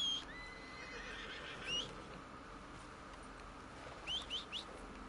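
A horse whinnies in Red Dead Redemption 2, one high neigh at the start and another near the end, both thin and fairly quiet over a soft outdoor ambience with faint bird chirps.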